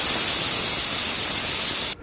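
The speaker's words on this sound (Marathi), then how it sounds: "कुकरला 3 शिट्ट्या काढून घेऊया." Steam escaping from a pressure cooker cooking spinach khichdi for a baby, a loud, steady, close hiss that continues unbroken for about two seconds before cutting off abruptly.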